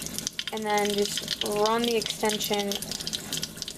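Tap water runs steadily onto hair extensions being rinsed by hand, a close, continuous hiss and splash under a person's talking.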